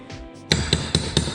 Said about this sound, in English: Then I'm going to use my pry bar and the hammer.